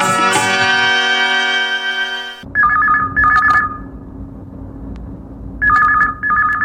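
A telephone rings before a call is answered: after a fading musical tone, a loud, close electronic ring sounds in two short bursts, pauses, then rings twice more.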